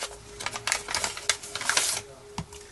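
Scissors slicing open a paper mail envelope, heard as a quick run of crisp, close snips and paper rustles in an irregular rhythm.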